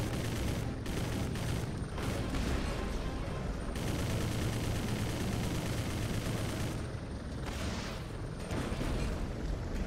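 Dense, continuous gunfire from a city firefight in Prototype 2 rolls on for about ten seconds with sustained rattling bursts and booming impacts, loud and busy throughout.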